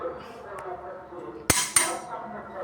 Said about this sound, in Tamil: வெள்ளத்தை நல்லா கலந்து விட்டுக்கணும்